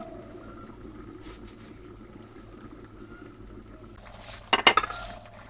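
Chopped tomatoes and eggplant dropped into a pan of simmering fish curry, a quiet bubbling background then a short loud clatter and splash near the end.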